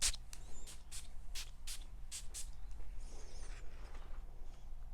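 A bottle of Diptyque Eau Nabati fragrance gives a quick run of about seven or eight short, hissing spray puffs up close, followed by a quieter, faint rustle.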